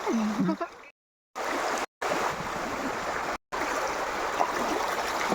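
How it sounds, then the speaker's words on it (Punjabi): Fast-flowing flood water rushes in a steady broadband roar during a Punjab flood, near and continuous, broken by a few abrupt silent gaps, with a voice briefly at the start. "ਬੜੀ ਤੇਜ਼ ਹੋ ਗਿਆ ਪਾਣੀ"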